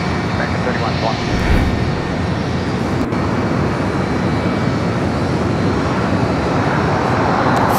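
An Asiana Airlines Airbus A380 arriving at Los Angeles LAX from Seoul produces a continuous loud engine rumble that holds at a steady level, with a voice speaking over it.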